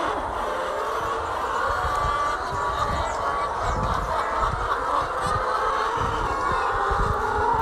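A flock of laying hens in a wooden coop keeps up a continuous chorus of clucking and squawking, with overlapping calls at moderate distance.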